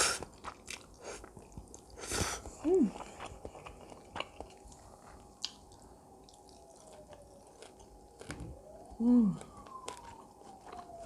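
Someone eats Jjapaguri (ram-don) noodles from the film Parasite, with close, wet chewing and crunchy bites that come and go over several seconds, plus a couple of short squeaky tones; no one talks.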